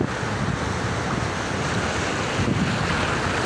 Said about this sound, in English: This is Pacific Ocean, real ocean